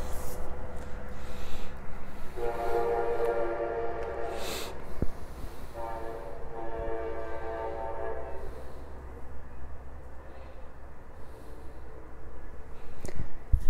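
A train rolls past with a continuous low rumble, and its horn sounds in two long blasts partway through before the rumble carries on.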